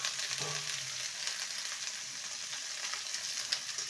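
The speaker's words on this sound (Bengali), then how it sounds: "সবজিটাকে ভালো করে নেড়ে নেব" Potato, eggplant and bean pieces sizzle steadily in a hot pan while being stirred, a continuous close frying hiss with a brief scrape of the utensil near the start.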